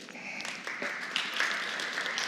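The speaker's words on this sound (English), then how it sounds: "please give a warm round of applause to our guest moderator, Ms. Shirin Marikan" An audience at a heritage talk applauds to welcome a guest moderator: a steady wash of clapping from many hands, moderately loud and sustained throughout, with no voices on top.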